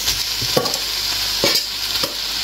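Fried rice with chilli sauce is tossed in a hot pan under a steady sizzle, with a few soft scrapes and clinks of the spoon, and no talk.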